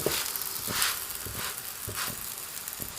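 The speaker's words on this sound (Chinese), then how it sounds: "饼皮的表面也淋少许的油，烙至底边变色" A Mongolian meat pie pan-fries in a little oil, giving a steady close-up sizzle with soft crackles and small pops at a gentle irregular rhythm, and no talking.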